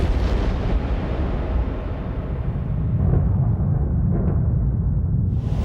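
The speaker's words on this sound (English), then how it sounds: "this flings off huge amounts of dangerous material in very large explosions" A deep explosion sound effect representing solar eruptions rolls out as a loud, low rumbling boom that slowly fades and darkens over several seconds.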